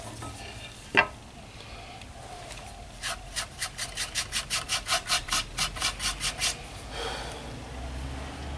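A woodturning tool scrapes across the end grain of a hardwood fence post on a lathe. After one sharp knock comes a rapid series of about fifteen rhythmic rasping cuts, close by and loud, followed by a softer scrape.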